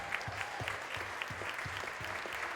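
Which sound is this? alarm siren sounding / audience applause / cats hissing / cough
audience applause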